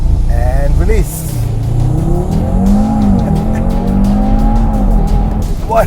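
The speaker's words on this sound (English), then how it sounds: "You switch off the traction control, the ESC, and then all you need to do is press the brake, accelerate," An Audi TT launches hard with traction control switched off, its engine revving loudly as the tires squeal and the pitch climbs through the gears, while someone talks over the noise.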